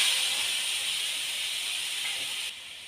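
Ground vegetable paste sizzles in a hot pan of oil for a vegetarian dish, a steady close hiss that holds evenly and drops slightly near the end, with no talking over it.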